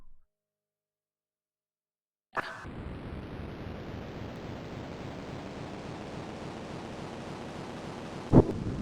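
Wind blows in the Deluxe Ski Jumping 2.1 video game. Silence gives way to a sudden burst, then a steady, broad whooshing that holds on with a short sharp click near the end.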